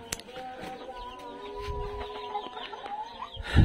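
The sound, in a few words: farm chickens clucking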